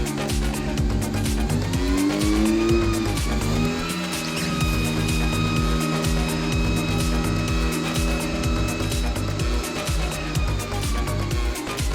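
A Honda with a B18C5 engine runs continuously during a tailpipe emissions test, its steady engine note briefly swelling and shifting pitch early on before settling into a constant loud hum.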